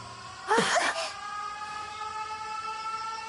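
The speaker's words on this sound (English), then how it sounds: "Air raid alarms have been sounded." A loud, rising burst of an air raid siren starts the clip, then settles into a sustained, steady wailing tone that carries on quietly to the end.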